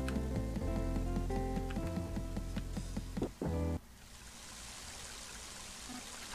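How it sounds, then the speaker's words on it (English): Heavy rain in the Mother 3 video game: chiptune-style music plays for several seconds, then cuts away to a soft, steady hiss of falling rain that continues alone. "Mighty heavy rain, isn't it?"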